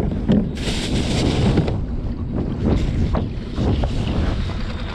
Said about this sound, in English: the wind's picking up a little more than I liked